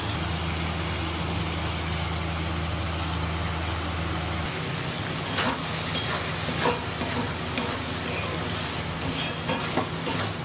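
Mashed lote (Bombay duck) fish stirred and frying in a pan, giving a steady broadband sizzle with soft scraping stirs. A low hum runs under the first few seconds.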